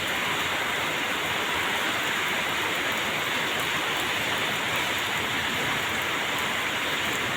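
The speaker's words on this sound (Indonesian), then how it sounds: "Alhamdulillah lagi hujan, kayak hawane rada adem enak." Steady rain pours down outdoors under an overcast sky, a dense, even hiss that stays loud and unbroken throughout, with no voices.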